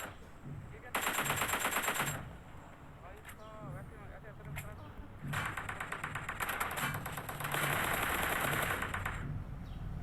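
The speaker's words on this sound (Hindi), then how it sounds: "जैसे ही गन फाइट का साउंड आएगा या हमको गोलियां पड़ेंगी, बस उसको फॉलो करेंगे" Bursts of rapid machine gun fire in a video game gunfight, two long sustained volleys with a brief gap between them, loud and close.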